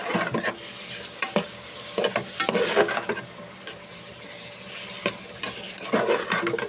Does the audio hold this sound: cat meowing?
no